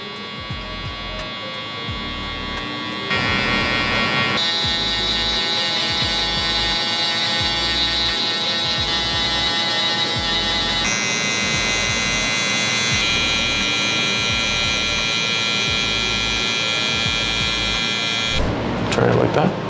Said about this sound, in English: so then when we go up with my shaver,